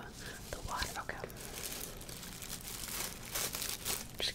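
Plastic bag crinkling and rustling in short, close bursts during a quiet ASMR luggage-search roleplay, with soft whispered talk over the handling sounds.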